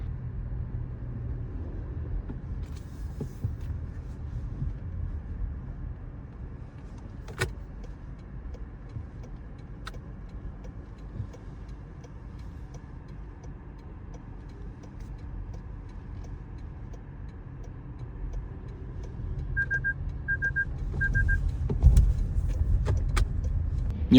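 Inside a Toyota bZ4X electric car while driving: a low, steady road and wind hum with faint clicks and rattles, no engine noise, and a slight swell near the end.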